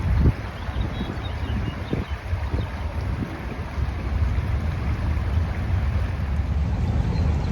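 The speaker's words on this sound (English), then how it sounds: "This bridge, the noise of the highway, and all this water come rushing through here." River rapids rushing beneath a highway bridge, heard from a small plastic boat as a loud, steady roar of churning water mixed with wind buffeting the microphone and a few low knocks, with no voices.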